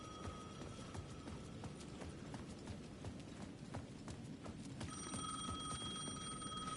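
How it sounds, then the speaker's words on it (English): Payphone ringing in the video game Alan Wake 2, a repeated electronic bell tone sounding steadily at the edge of a plaza over a constant rumbling background with rapid clattering footsteps, growing a little louder near the end. "The payphone at the edge of the plaza was ringing again."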